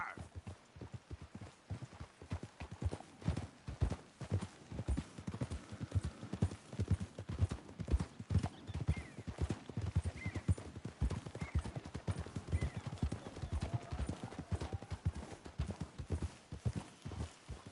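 Horse hooves clip-clop steadily in Red Dead Redemption 2, a brisk rhythmic run of close, clear hoofbeats on ground with an occasional whinny and no talk over it.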